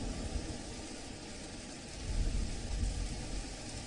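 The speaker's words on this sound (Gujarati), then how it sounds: "સાબરકાંઠા જિલ્લામાં સતત વરસાદ વરસી રહ્યો છે" Steady rain falls at night in Sabarkantha district, Gujarat, a continuous close hiss of drizzle with a low rumble swelling briefly partway through.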